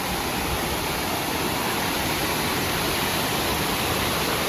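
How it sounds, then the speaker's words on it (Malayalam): A waterfall at Thekke Malambuzha in Palakkad, Kerala, roars with a constant, loud, broadband rush of flowing water, unbroken and with no voices. "ഇതാണ് നമ്മൾ താഴത്ത് നിന്ന് കണ്ട വെള്ളം ഇവിടെ നിന്നാണ് ഒഴുകി പോണത് കേട്ടോ."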